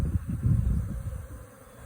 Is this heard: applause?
no